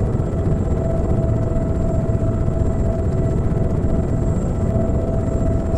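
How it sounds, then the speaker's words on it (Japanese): Continuous loud helicopter rotor and turbine drone from the cabin in the DayZ mod The Day After, steady and close without a break. "このヘリうるさすぎます。"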